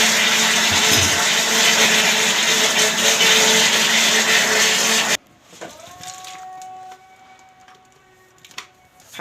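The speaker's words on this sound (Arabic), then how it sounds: "الخلاط مش عقيم، الكاكاو اللي بيبقى تقيل." An electric mixer whirs loudly and steadily as it beats cake batter with cocoa, then cuts off abruptly halfway through, leaving quiet kitchen clatter and a faint hum.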